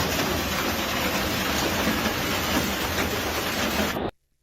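A heavy hail storm in Worms, Germany, makes a dense, loud, continuous drumming roar that holds steady for several seconds, then cuts off abruptly.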